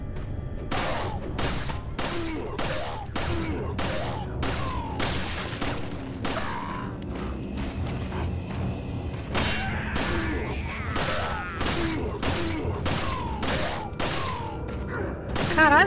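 Repeated gunshots from the video game Resident Evil 4, sharp reports firing in fast irregular bursts across the whole stretch, with a louder blast near the end over a dense game soundtrack.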